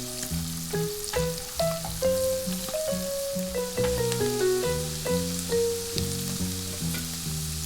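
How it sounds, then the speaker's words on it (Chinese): Minced garlic stir-frying in a pan beside tofu, a soft steady sizzle with light stirring sounds, running underneath a prominent plucked melody of background music. "再加入蒜末炒出香味"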